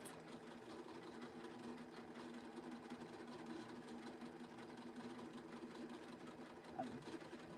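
A sewing machine stitches fabric using fancy thread, running at an unhurried pace. It gives off a faint, steady mechanical whir that continues unbroken throughout, with no talking.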